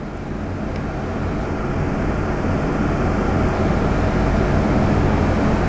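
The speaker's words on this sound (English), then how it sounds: "This is our 632 with the mirror image turbochargers." A twin-turbocharged 632 cubic inch (10.4 L) big-block Chevy with mirror-image turbos runs on a dyno on pump gas at 14 pounds of boost, giving a loud, steady, dense roar that builds slightly throughout.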